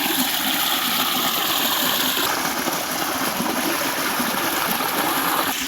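Irrigation water flows steadily into a field in an orchard, making a continuous, close, full rushing sound with no break and no voices.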